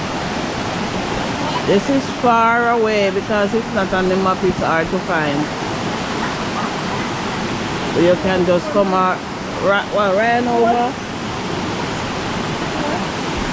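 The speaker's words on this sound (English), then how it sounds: "Around here so near Stewart Mountain. Stewart Mountain River" Stewart Mountain River in St Mary, Jamaica, rushes in a steady, close, unbroken wash of water noise throughout, while someone talks over it in two stretches.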